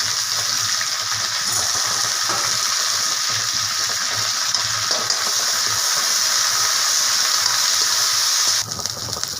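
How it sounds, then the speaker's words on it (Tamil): Curry leaves sautéing in a pan for a curry-leaf kuzhambu give a steady, close, broadband hiss and sizzle that runs unbroken and fairly loud throughout, with a brief dip near the end. "அந்த கருவேப்பிலையை அதில் சேர்த்துக்கிறேன் நல்லா வதக்கிடணும்"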